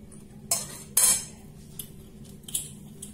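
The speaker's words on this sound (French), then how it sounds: "Maintenant, je vais faire mon mélange de lait avec l'œuf." Milk and egg being mixed in a bowl, with a handful of sharp, bright clinks of utensil against the bowl at irregular intervals over a quiet background.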